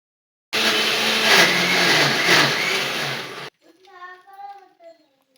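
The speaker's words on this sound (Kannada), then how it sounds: "ಮೊದಲು ಪಕ್ವವಾದ ಬಾಳೆಹಣ್ಣನ್ನು ತೆಗೆದುಕೊಂಡು ಚೆನ್ನಾಗಿ ಕಿವುಚಿ ಮಿಕ್ಸರ್ ಜಾರಿಗೆ ಹಾಕಿ" A mixer grinder jar whirs loudly and steadily for about three seconds, blending mashed ripe bananas for sweet holige, then cuts off and is followed by brief speech.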